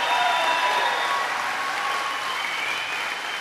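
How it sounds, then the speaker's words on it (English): Audience applause for the graduates at a 2023 high school graduation ceremony, a sustained, even roar of clapping from a large crowd in a hall, filling the whole stretch at fairly strong level. "Let's give them a big round of applause."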